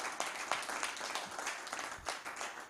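Audience applause at an entrepreneurship week event, a dense, steady wash of many hands clapping that holds evenly throughout at moderate volume.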